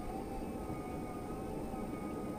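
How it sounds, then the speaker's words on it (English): A small pier train runs along a seaside pier, making a steady, continuous mechanical rumble with a faint high whine, heard from nearby without a break and with no talking. "Pier train."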